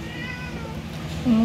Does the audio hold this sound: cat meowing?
yes